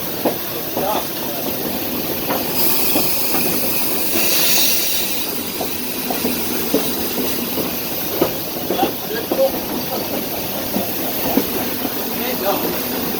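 A steam train at Fort Edmonton Park, heard from the cab as a loud, steady rumble with continuous hiss and rhythmic clacking and squeal of wheels on rail, voices talking over it.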